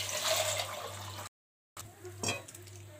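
Water is poured onto rajma in a pressure cooker, a soft, faint splashing and gurgling that breaks off for a moment, then returns more quietly.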